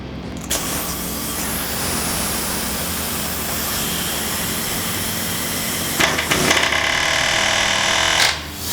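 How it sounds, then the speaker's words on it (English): Loud, continuous pneumatic hammering as an air hammer drives a bolt during a rear disc brake conversion on a 1963 Corvette, a steady rapid rattle for most of the clip, with brief pauses and bursts near the end. "I'm going to try to drive it through with this air hammer."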